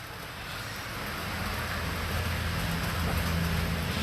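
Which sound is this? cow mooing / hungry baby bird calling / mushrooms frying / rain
rain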